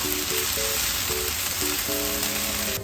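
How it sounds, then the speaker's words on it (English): Vegetables sauteing in a pan on the stove give a steady, close sizzle, with a faint tonal hum running beneath the crackle throughout. "You're sauteing"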